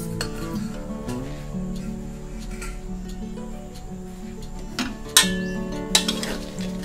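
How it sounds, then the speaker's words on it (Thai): Pork cracklings fry in reused lard in a pot while being stirred, giving a steady sizzle with scraping and a few sharp metallic clinks of the utensil near the end. "เอากากหมูที่เราพักไว้เมื่อกี้ลงเจียวต่อได้เลยค่ะ"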